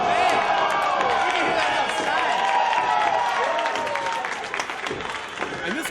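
A wrestling-match crowd roars for Andrew Palace during a near-fall, sustained loud cheering with shouts and whistles that fades slightly toward the end.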